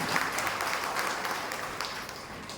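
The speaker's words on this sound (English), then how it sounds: "Once again, hands together and cheer them." An audience of parents at a school's annual event claps together in a steady, dense round of applause that fills the room and continues evenly throughout.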